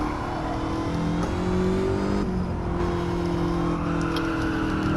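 A 2006 Ford GT on a race track in second gear, its engine droning loud and steady as it accelerates, the pitch climbing through the gear with a brief dip around a shift, no voices present.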